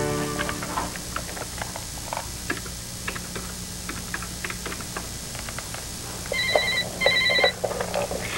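Telephone ringing under a busy background of clicks and ticking, with two short bursts of electronic ring near the end, fairly faint against the noise.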